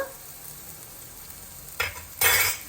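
Coriander powder frying and being stirred in a pan, a faint steady sizzle broken by two louder scraping bursts of stirring near the end.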